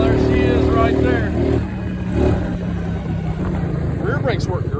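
A Suzuki King Quad 300 ATV engine runs a little rich, a steady mid-pitched idle that swells briefly, with a voice talking over it.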